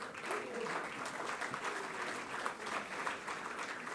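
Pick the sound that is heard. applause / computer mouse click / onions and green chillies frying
applause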